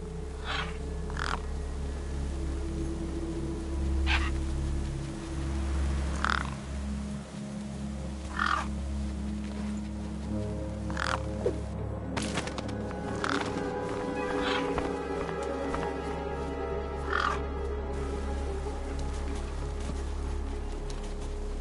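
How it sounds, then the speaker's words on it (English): Gang birds caw over a corpse in the video game Beyond A Steel Sky, with scattered harsh crow-like calls repeating every second or two over a steady low ambient hum. "The gang birds were eyeing up the corpse hungrily."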